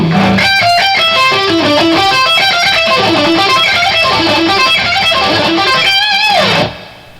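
A fast lick on distorted electric guitar runs through many rapid notes, ending in a bend before cutting to silence.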